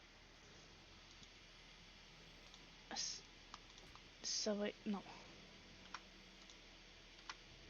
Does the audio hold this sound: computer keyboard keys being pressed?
yes